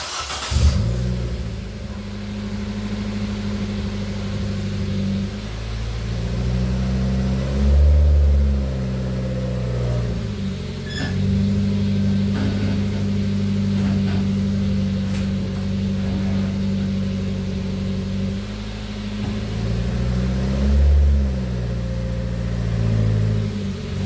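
A Nissan Versa idles and drives slowly up onto ramps. Its engine hums close and loud, with repeated swells of revving as it climbs and settles.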